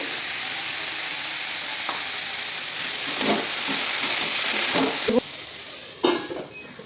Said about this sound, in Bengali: আমি দিয়ে দেবো কাঁঠালের বীজগুলো তারপরে আমি আলু আর পেঁয়াজগুলো দিয়ে দেবো